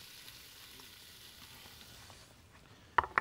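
Chopped onion hits hot olive oil in a pot, a quiet kitchen hum giving way to a sudden, loud burst of sizzling right at the end.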